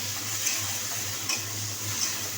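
Chopped onion and tomato fry in white oil, giving a steady sizzling hiss with a low hum underneath and a few faint clicks, close and without talk.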